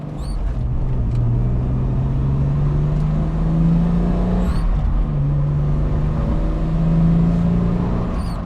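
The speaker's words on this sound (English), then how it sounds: "we are back on the road in the BA Falcon" A Ford BA Falcon cruises on the road, its engine a steady close hum with a rising drone under continuous tyre and road noise, easing briefly before building again.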